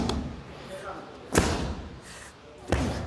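A heavy weighted ball slammed onto a gym floor during a slam exercise, three loud, sharp thuds spaced about 1.3 seconds apart, with breathing or faint voice between them.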